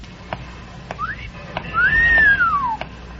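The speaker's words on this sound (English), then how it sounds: "I was only whistling for my dog" Human whistling: a few short chirpy notes, then a longer rising-and-falling whistle, fairly close with faint clicks in the background.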